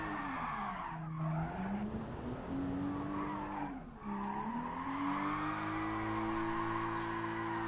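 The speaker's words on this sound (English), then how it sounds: "It seems like someone is pulling a wheelie outside of my house." A vehicle pulls a wheelie outside a house, its engine a loud, continuous whine that dips and rises in pitch as the revs change, with no voices.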